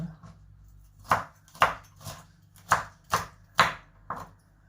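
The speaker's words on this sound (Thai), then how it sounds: "หั่นเล็กๆนะคะ หั่นประมาณนี้" A knife chops winged beans on a cutting board in seven distinct, crisp strikes at an uneven, unhurried pace, close and clear against a quiet background.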